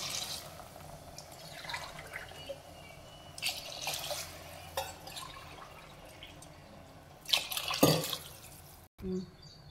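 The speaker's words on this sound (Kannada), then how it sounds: "ನೋಡಿ 4 ಕಪ್ ನೀರು ಹಾಕಿದ್ದೀನಿ" Four cups of water are poured into a pot of rice in a few short, splashy bursts, the loudest pour coming near the end, with quiet background noise between.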